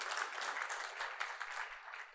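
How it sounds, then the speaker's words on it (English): A crowd claps steadily and faintly at a company stock listing ceremony, a soft continuous patter of applause with no voices over it. "I think this itself deserves a huge round of applause"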